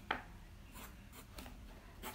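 A thin pencil sketches a circle on paper, giving a faint, quiet scratch followed by a few soft, brief strokes.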